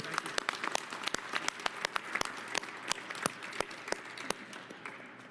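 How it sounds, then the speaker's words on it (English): An audience at a press conference breaks into applause, a crowd of sharp scattered claps at moderate distance, steady for several seconds before beginning to thin out. "I think that deserves another round of applause"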